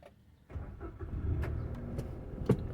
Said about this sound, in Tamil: இப்போது வண்டி ஸ்டார்ட்